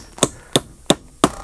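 Four sharp hammer blows on tongue and groove beetle kill pine boards, evenly spaced and close, each a crisp knock with no talk.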